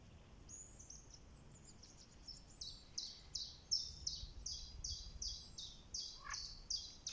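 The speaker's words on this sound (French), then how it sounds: "Les oiseaux, les grenouilles." Birds sing in a sunny natural setting, a small bird repeating a rapid series of bright chirping phrases that grow more regular and closer, over a soft low background hum.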